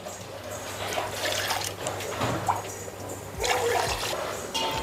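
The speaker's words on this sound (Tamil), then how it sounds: "3 பங்கு தண்ணி ஊற்றிக்கங்க" Water poured into a pressure cooker holding soaked, ground rice, a gurgling, splashing stream that rises and falls over several seconds with no talking.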